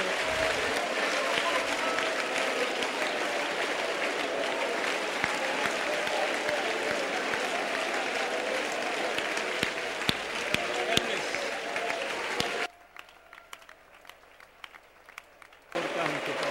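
Congregation clapping in a church service fills the space with loud, continuous applause, then drops away abruptly to near quiet before a brief resurgence at the end.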